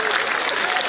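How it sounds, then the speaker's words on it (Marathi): An audience at an interview event bursts into loud, dense, continuous applause, a brief close wash of clapping. "एकदा जोरदार टाळ्या वाजवायच्या आहेत त्यांच्यासाठी."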